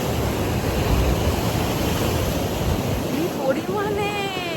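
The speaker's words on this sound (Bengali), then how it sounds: "দেখো এত বড় বড় ঢেউ আসছে" Big sea waves roll onto Mandarmani beach in the morning, a steady loud wash of surf with wind buffeting the microphone throughout.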